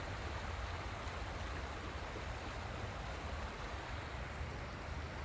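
A loud, steady rush of creek water fills the whole stretch, a dense continuous broadband wash with no breaks and no voices over it.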